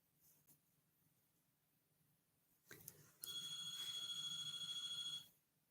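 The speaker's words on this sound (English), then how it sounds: "And of course, the phone rings." A telephone rings loudly and steadily for about two seconds, preceded by a brief knock, during a quiet live stream indoors; no one speaks.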